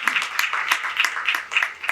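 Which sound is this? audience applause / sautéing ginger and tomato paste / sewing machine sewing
audience applause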